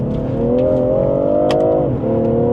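A Stage 1 BMW M340i engine pulls hard under load, its steady drone rising in pitch, then dips briefly as a gear changes and climbs again, loud and close.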